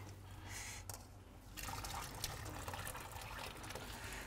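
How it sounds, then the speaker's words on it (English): Water drained from a cooking pot, a faint soft trickling and pouring that grows steadier after a brief lull, close by and quiet. "I'm just going to drain the water in this"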